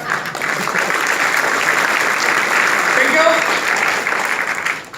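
A steady wash of clapping from a large audience at a motivational meeting speech carries on evenly throughout, dense and moderately loud, with faint voices mixed in.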